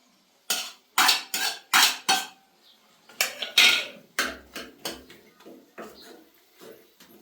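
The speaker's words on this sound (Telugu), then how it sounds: "సో ఇప్పుడైతే జింజర్ పేస్ట్ వేసేసుకుందాం" Ginger paste going into a pan of mutton, heard as a quick run of loud metallic clinks and scrapes of a spoon against the pan, then softer intermittent knocks, close up with no talking.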